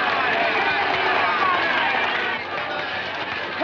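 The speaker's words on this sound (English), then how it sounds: "What a crowd." A large audience waits before a circus lion-cage act, a steady dense crowd hubbub with murmuring voices and movement, loud and continuous throughout without any distinct voice standing out.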